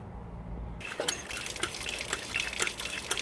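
Water pumped out of a Worcester 35CDI boiler during work on the DHW heat exchanger, starting suddenly as a close, continuous splashing trickle with irregular drips and gurgles.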